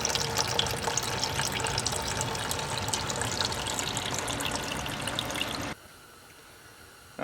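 Washer fluid drains steadily from the reservoir of a 2002 Toyota Avalon during a windshield washer pump replacement, a continuous close trickle and splash that stops abruptly near the end.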